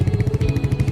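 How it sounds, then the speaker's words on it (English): A Royal Enfield Meteor 350 motorcycle's single-cylinder engine and exhaust, a close, loud, rapid even thumping pulse at steady revs with no talk over it. "it's a high torque engine, it's a signature engine sound, a very signature exhaust note"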